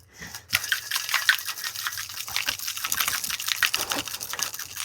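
A cocktail shaker shaken wet with ice makes a dense, rattling, sloshing clatter that starts abruptly after a short gap and continues steadily and close for several seconds.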